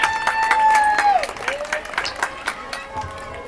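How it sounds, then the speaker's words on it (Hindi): Applause for a teacher at a school Independence Day function, with clapping and crowd noise mixed with children's voices and cheers for a few seconds, fading toward the end. "सर साजिद के लिए जोरदार तालियां होनी चाहिए."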